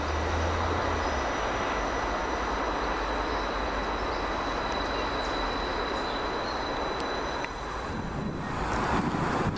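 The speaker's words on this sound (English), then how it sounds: "Now leaving the 1240 Northern Rail service from Skipton to Brentford Forster Square, 333-010." A Northern Rail Class 333 electric unit (333-010) runs through Steeton and Silsden station on the Skipton to Bradford Forster Square line, a steady loud rumble and hum lasting throughout with a faint high whine and no voices.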